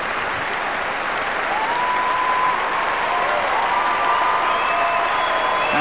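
A large Wimbledon crowd applauds the 1998 ladies' champion Jana Novotna, the steady dense clapping loud and sustained throughout, with a faint tone or whistle drifting over it.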